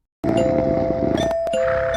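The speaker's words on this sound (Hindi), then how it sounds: "इतना घंटी बजा रहा है सुबह सुबह" A doorbell rings on a winter morning in a cartoon comedy scene. The loud, steady electronic chime starts abruptly after a short silence and carries on with brief sharp breaks and clicks in between. No voices.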